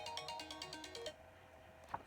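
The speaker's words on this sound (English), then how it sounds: "That's my phone alarm." A phone alarm rings as a repeating electronic ringtone of rapid bright pulses for about a second, then stops, followed by room quiet and a single faint click.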